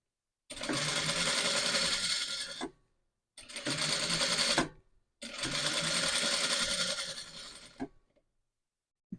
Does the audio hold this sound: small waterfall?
no